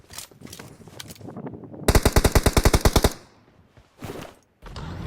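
A single loud burst of rapid automatic gunfire in a video game, about a dozen close shots in roughly a second, between quieter game sounds.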